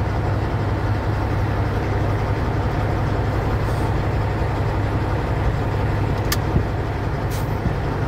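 Steady road traffic rumbles continuously around a car among heavy trucks, loud and close, with a faint brief high chirp partway through and no talking.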